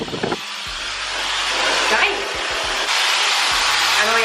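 A TYMO AirHype digital hair dryer switches on and blows a loud, steady rush of air close by, with a few clicks and beeps at the start and brief tonal blips partway through.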